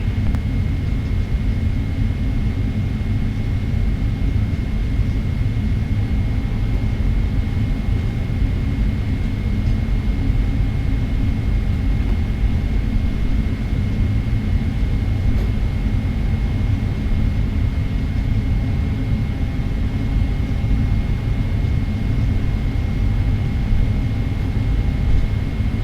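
Boeing 777-300ER jet airliner on landing approach at Kaohsiung airport, a steady loud engine roar with a constant whine, unbroken for the whole stretch, no speech.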